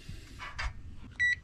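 A battery management system on a battery bank gives one short high electronic beep at the end, after a few soft clicks and rustles close by, no talk.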